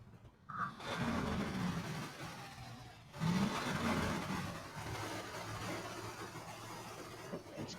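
The Scout truck in the SnowRunner video game drives off in two-wheel drive. Its engine hum runs steady and continuous, rising slightly at the start and again midway, with no voices.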